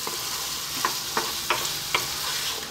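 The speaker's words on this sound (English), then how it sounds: "Give it a stir every now and then." Tomato sauce simmering in a pan as it is stirred, a steady soft sizzle with a few sharp scraping clinks of the spoon against the pan, close up and alone.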